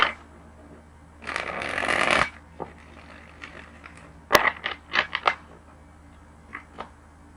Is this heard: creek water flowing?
no